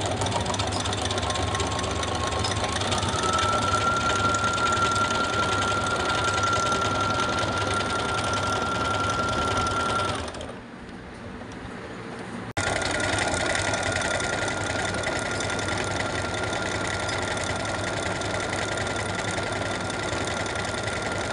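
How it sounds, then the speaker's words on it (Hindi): Embroidery stitching on a sewing machine threaded with embroidery thread on top and white thread below, a steady close mechanical whir and rapid rattle that runs continuously, pauses briefly midway, then resumes. "मैंने ऊपर का धागा एम्ब्रॉयडरी का लिया है और नीचे वाइट कलर का धागा ले लिया है। तो अब हमें इसे स्टार्ट करना है।"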